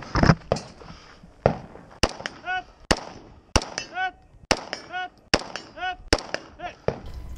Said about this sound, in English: I take all of these shots offhand.